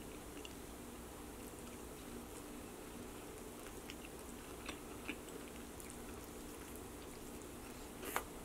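Quiet close-up chewing of chicken wings, soft wet mastication under a faint steady background hiss, with a sharper bite near the end and no talking.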